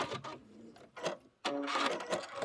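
A sewing machine back stitches on a Kimberbell pillow in short close bursts of rapid mechanical whirring, separated by brief pauses, with one longer run of stitching.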